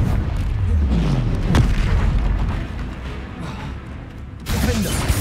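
A Confringo spell bursts in Hogwarts Legacy as a heavy booming blast with rumbling debris behind it, loud and close, followed by a second sharp hit near the end.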